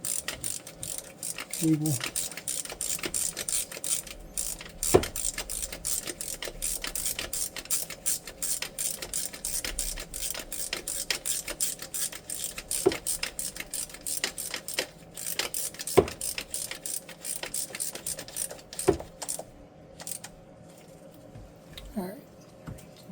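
A ratchet clicks steadily as it snugs bolts on a GP1200R remanufactured engine, a close, continuous run of fine metallic pawl ticks with a few louder knocks, and brief talk.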